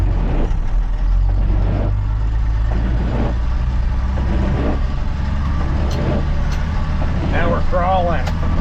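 A first-generation Cummins diesel truck engine rumbles steadily in four-wheel drive low, a loud continuous low drone with a brief whine near the end.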